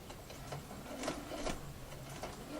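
A sewing machine stitches bias binding with a steady, fast mechanical whir and light ticking, close and moderately quiet, with no talk over it.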